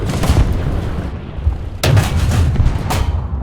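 Tank cannon shots in War Thunder, a Semovente 105/25 firing: loud booming blasts, one near the start and a sharper one about two seconds in, each with a ringing tail, no voices.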